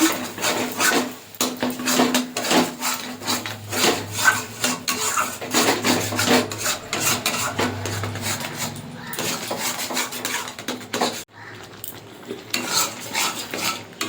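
Spices with sugar and turmeric stirred in a pan for palak paneer, a close spatula scraping and rasping against the metal in quick repeated strokes, loud and continuous, pausing briefly near the end.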